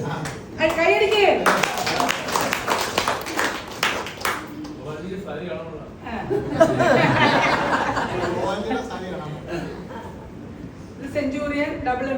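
Audience clapping at an LIC office unit gathering. A burst of hand claps runs for a few seconds under continuous talk and light chuckling, then fades as the chatter carries on.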